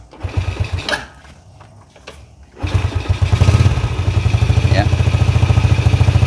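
A Yamaha Jupiter Z motorcycle engine cranks, catches and settles into a steady, close, loud idle with a rapid even putter, after brief talk and a short pause.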